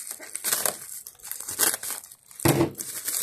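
Cardboard and plastic packaging of a Carl Martin Greg Howe Lick Box guitar pedal being cut open, giving close crinkling and tearing bursts in several bouts, with a louder rip near the end.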